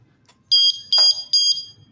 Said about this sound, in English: let's trigger this alarm so you can see what it sounds like.